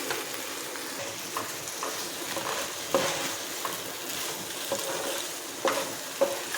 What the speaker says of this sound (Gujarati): ચીઝ સાથે બધા પાસ્તાને સરસ આપણે મિક્સ કરી લઈશું.